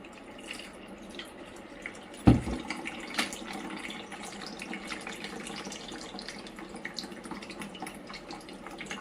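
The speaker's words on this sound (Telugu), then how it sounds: "నేనైతే ఫిల్టర్ చేస్తున్నాను స్ట్రైనర్ ద్వారా" A homemade ABC drink is poured through a strainer into a bowl, making a steady close liquid splash and trickle that starts with a sharp pour and runs on continuously to the end, with no talking.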